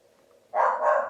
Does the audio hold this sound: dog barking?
yes